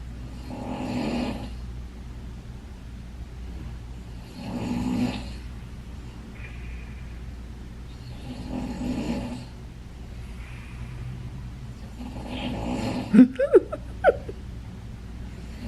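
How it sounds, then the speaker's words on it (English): A sleeping person snores in slow, steady cycles of rough breathing, roughly every four seconds, fairly close. A few sharp clicks and rustles come near the end. "My sister's snoring too."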